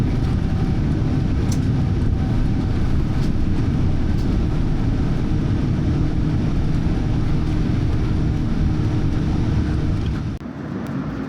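Airliner cabin waiting for takeoff on a business class flight to Seattle, a steady loud low engine and ventilation rumble filling the space, easing slightly near the end, with no voices.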